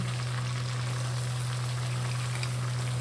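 Sliced onions frying in hot oil for a Bengali-style chicken curry, a steady dense sizzle and crackle close by with no talk over it, alongside a constant low hum.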